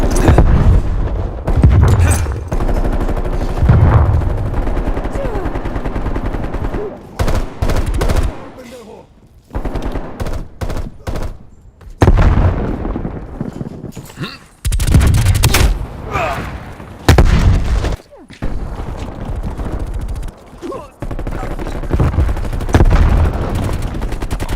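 Grenade explosion and gunfire in the Call of Duty video game, with dense bursts of loud shots and booms recurring across the whole stretch, broken by brief quiet gaps and mixed with voices.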